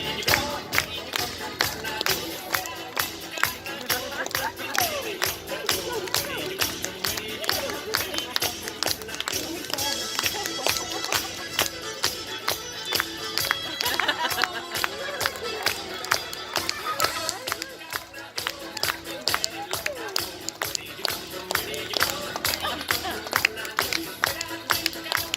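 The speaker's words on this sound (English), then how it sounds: "When you hear the music, clap along and Bunker bust a move." Audience at a Long Island aquarium show clapping along to a playing song, steady rhythmic claps mixed with music and crowd noise throughout, with occasional voices in the room.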